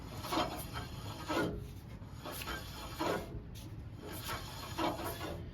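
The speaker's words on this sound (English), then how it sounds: "I'm just going to spin the wheel and press on the brake" On a 2001 Kawasaki Vulcan Nomad 1500cc, the front wheel is spun while the front brake is pressed. A rasping scrape of pad on disc comes in roughly rhythmic pulses, about one per second, close and moderately loud.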